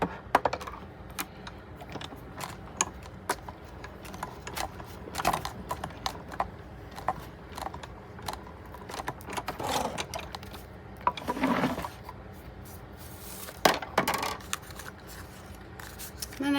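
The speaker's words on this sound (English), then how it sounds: "when I crank this through on my die cutting machine here" A die cutting machine cranked through to cut paper, giving a steady run of small clicks and ratcheting ticks with louder clacks every few seconds, close and fairly quiet.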